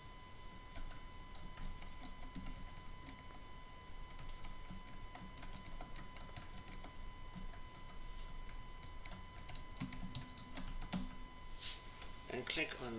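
Rapid, steady keystrokes on a computer keyboard, including backspacing and typing text, a continuous soft clatter at low level heard under a voice giving instructions.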